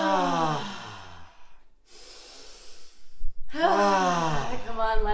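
Loud, drawn-out sighs during a guided breathing exercise, a long exhaled sigh followed by a quiet pause and then another, with a voice speaking at the start and again at the end.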